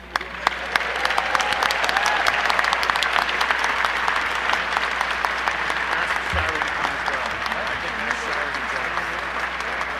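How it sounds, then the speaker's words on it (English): Sustained, dense applause from a gala audience at the American School of Classical Studies annual event, even and continuous across the whole stretch with a few voices beneath. "please give a round of applause as we invite Jack Davis to the stage"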